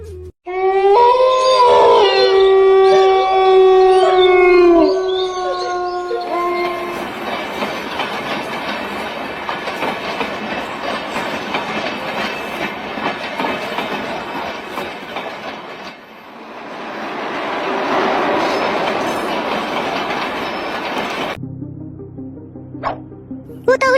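A train horn blares for several seconds, then the rumbling clatter of a moving train on rails carries on steadily before cutting off abruptly.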